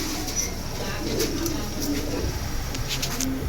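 Shiny silver pigeons in a keeper's collection give low, rolling coos several times over a constant background hum, with faint voices nearby.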